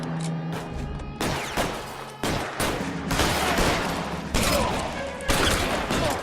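A shootout in the video game LA Noire brings volleys of gunshots in several sharp bursts, loud and near, with brief pauses between them.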